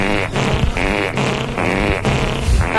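Loud, sustained fart noises come from a man known for farting, a string of long, raspy, buzzing blasts with brief breaks between them, close and dominant.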